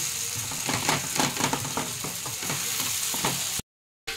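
Tomatoes and onions sizzling in a pan for chicken curry, a steady close frying hiss with a spoon stirring and scraping, no voices, cutting out briefly near the end.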